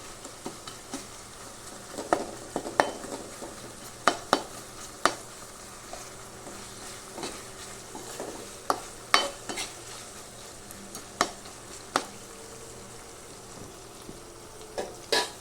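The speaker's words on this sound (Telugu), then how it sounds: "టమాటో అయితే వేగింది. ఇంకొంచెం వేగితే బాగుంది." Tomatoes frying in a pan for fish curry, a steady soft sizzle broken by sharp clinks and scrapes of a spoon against the pan, close and alone with no voices.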